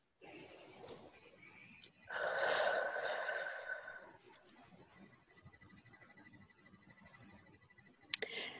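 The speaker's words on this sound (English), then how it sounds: "Take a deep breath" A deep breath taken during a relaxation exercise, with a slow, audible inhale and exhale swelling up close and fading out, followed by quiet room noise and a few faint clicks.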